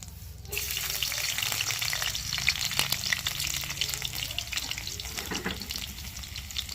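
Chopped garlic sizzling in hot oil in a pan, a steady close frying hiss with crackles that runs throughout, with occasional stirring.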